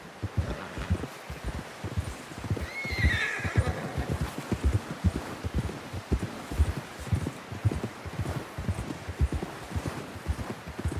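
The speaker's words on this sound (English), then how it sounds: "Someone help John down off this horse." In the video game Red Dead Redemption 2, a horse neighs loudly in a rising whinny amid steady clip-clopping hooves and rustling, with the galloping rhythm continuing throughout.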